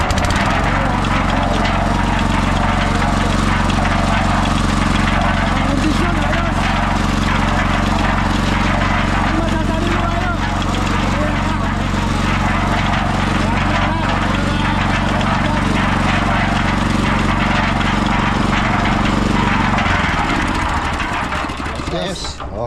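A small engine with a new spark plug runs at a steady, loud, droning idle for about twenty seconds, then cuts out abruptly, with voices talking over it.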